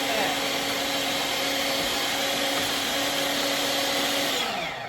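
A meat grinder works through pieces of chicken with a loud, steady motorized whir that holds evenly for several seconds before starting to wind down at the very end.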